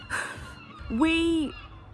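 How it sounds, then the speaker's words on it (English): A seagull gives one drawn-out, wavering cry by the seaside, close by and clear. A breathy rustle comes before it, with faint background noise. "Bloody seagulls interrupting"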